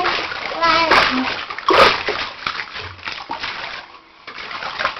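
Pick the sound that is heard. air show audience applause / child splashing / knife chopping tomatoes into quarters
child splashing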